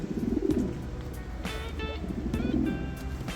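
Sarabi pigeons, a gold-necked long-necked pair, coo in soft repeated low rolling calls near at hand, two coo bursts with faint chirps and background noise between.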